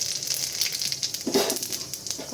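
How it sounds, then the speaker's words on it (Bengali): White cumin seeds sizzling in hot oil after fried potatoes are removed, a bright, crackling hiss with a louder burst of spitting midway, steady and close. "এবার এই তেলে আমি দিয়ে দেবো ফোড়ন হিসাবে সাদা জিরে"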